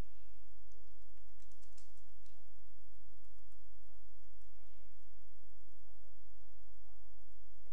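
Item data being typed on a computer keyboard for a cashier stock system, a quiet run of light, irregular key clicks over a steady low hum.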